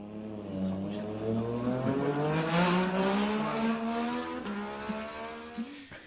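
Moto2 racing motorcycles at the Indonesian circuit scream past, their engine whine rising in pitch as they accelerate and shift, loud and steady with a faint roar of the track behind.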